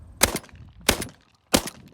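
A Tac-12 shotgun fires three loud, sharp blasts about two-thirds of a second apart, each with a short ringing tail, close up and with no voices.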